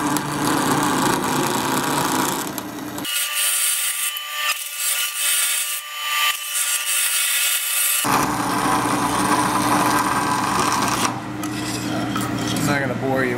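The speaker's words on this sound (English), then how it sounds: "I'm not going to bore you with a bunch of sawing." Saw cutting through material to rough out the profile of a part for a canned tuna dewatering press, a steady rasping stroke that runs loud and continuous with a brief muffled stretch in the middle, no voices.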